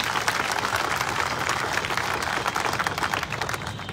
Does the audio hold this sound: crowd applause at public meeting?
yes